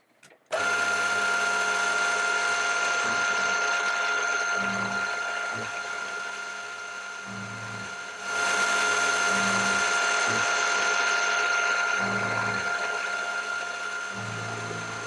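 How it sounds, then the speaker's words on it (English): A lathe or similar machine tool cuts metal off a workpiece held in a vise while shaping internal spherical forms, with a steady mechanical whir and a bright tonal whine. Periodic low thumps and clunks recur every second or so throughout. "I've turned it round a bit more in the vise and I'll cut some of this off the back here"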